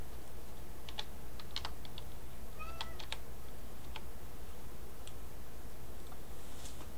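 Typing on a computer keyboard while entering codes in Club Penguin, heard as scattered soft clicks at moderate distance over a steady hum, with a cat-like meow sound briefly in the middle.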